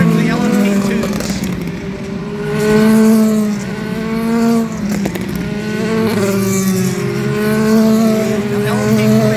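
LMP2 prototype race cars sweeping past at turns 10a and 10b during the 2023 IMSA Petit Le Mans, loud engines rising and falling in pitch as they pass, one after another with no break.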